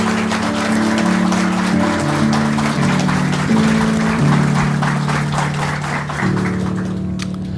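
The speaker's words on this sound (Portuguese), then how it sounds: "E eles merecem uma salva de palmas." Steady applause from a crowd at an evangelical wedding over sustained music with held low tones, continuing evenly throughout.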